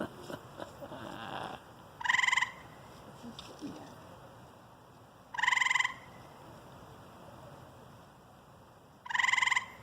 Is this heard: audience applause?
no